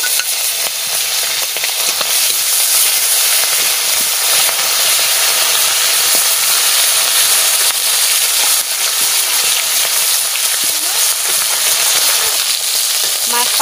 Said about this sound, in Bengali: মাছ ভাজা দিয়ে দিচ্ছি।